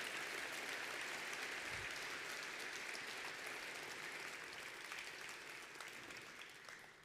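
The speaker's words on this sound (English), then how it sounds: "Let's give Tejas another round of applause." An audience applauds a speaker after a talk, a steady wash of many hands clapping that fills the room, loud and sustained before slowly thinning toward the close.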